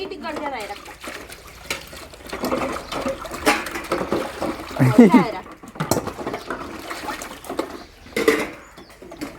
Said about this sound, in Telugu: చల్లయింది చల్ల మరి నీళ్ళన్నీ చల్లుతాం